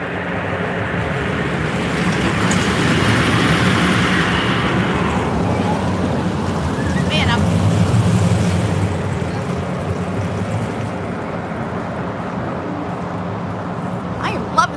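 A purple roller coaster train at Carowinds roars past in a long, loud rumbling rush that swells and then slowly fades, with people talking and cheering underneath.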